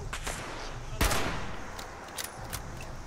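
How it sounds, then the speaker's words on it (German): Gunfire in the video game Fallout 76: a sharp, loud burst near one second, followed by a few fainter, scattered shots over steady in-game ambience with no talk. "Wer schießt da auf mich?"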